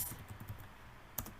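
Brief keyboard typing on a computer during a router network setup, a few soft clicks followed by a louder keystroke near the end, close and alone.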